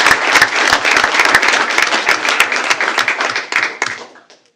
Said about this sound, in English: How about a big round of applause for all of you?